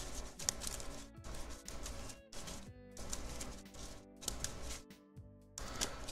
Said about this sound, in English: A nice good shuffle.